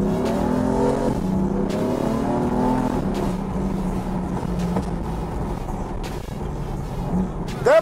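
BMW M3 F80 with a 580 hp engine accelerating, a loud rising engine note climbing through the revs and easing off, then a brief sharp rev at the end.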